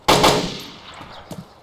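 A shotgun firing in the zombie-survival video game DayZ, one loud close blast with a long fading tail and a fainter follow-up pop, heard with no talk over it.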